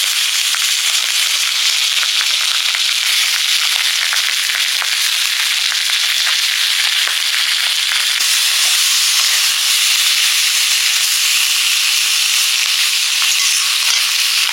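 Potatoes and chili tempering hitting hot oil in a pan, giving a loud, continuous sizzle with crackling hiss that stays steady throughout and is heard alone.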